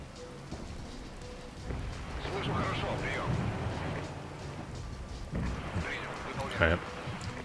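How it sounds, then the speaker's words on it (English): Artillery barrages in the WWII tactics game Regiments rumble as heavy, rain-like broadband booms, swelling around the middle and again near the end, with a player talking over them throughout. "We'll hit them with artillery in the meantime."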